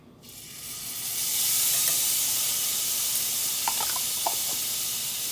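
Minced garlic sizzles in melted butter in a pan after chicken was cooked there, a steady bright hiss swelling up within the first second and holding, with a few small pops and a faint clink near the end; no voices.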